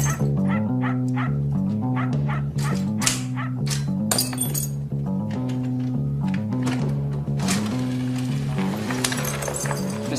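A dog barks and whimpers behind a house, repeated yips and whines over steady low tonal background music throughout.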